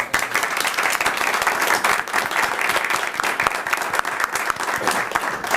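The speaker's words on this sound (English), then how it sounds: "So if we could give them a round of applause." Sustained applause from a large crowd at a school committee meeting honoring a girls volleyball team, dense and steady clapping filling the room for several seconds.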